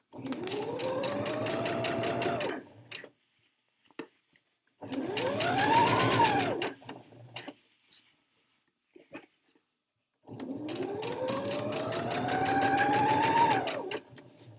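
A sewing machine stitches a jacket lining in a full circle, running in three long, steady bursts with a rising whine, separated by short pauses.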